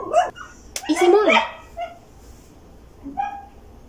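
Dogs bark and yip in a few sharp bursts, then give softer whimpering calls, close by, with a voice speaking Spanish during an autumn equinox ritual.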